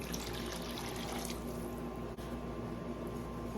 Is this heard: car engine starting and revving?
no